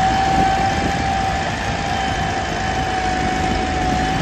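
A tractor engine runs at a steady drone, close by and constant throughout, with an unchanging pitch and no voices.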